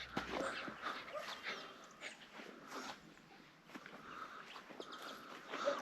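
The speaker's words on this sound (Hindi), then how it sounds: "देखो ये उनका कुत्ता है।" A dog on a village farm with fruit trees gives faint, intermittent whimpers and soft yips at a distance, mixed with light birdsong in a quiet outdoor setting.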